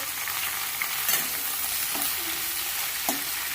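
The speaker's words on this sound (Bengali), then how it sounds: "ঢ্যাঁড়সটা ভেজে নিই" Okra frying in hot oil in a pan, a constant close sizzle broken by a few short scraping stirs, with no one talking.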